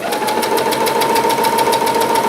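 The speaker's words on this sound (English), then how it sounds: "just sew down there. Slow down as you approach your point." Sewing machine stitching a blouse side seam, a steady rapid needle rattle with an even mechanical hum, close and loud throughout.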